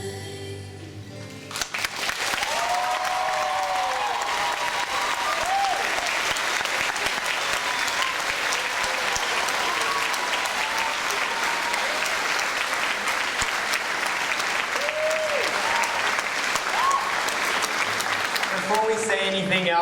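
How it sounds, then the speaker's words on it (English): Audience applause after a performance at a Year 12 and 13 school awards ceremony, a long sustained wave of clapping that swells in after a quiet start and stays dense and steady, with faint voices calling out under it. "can we just give them another round of applause?"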